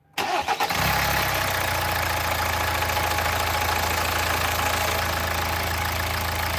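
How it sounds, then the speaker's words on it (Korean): A Hyundai Tucson ix engine cranks and catches during an oil change, then settles into a steady, loud idle that runs evenly to the end. "시동 겁니다."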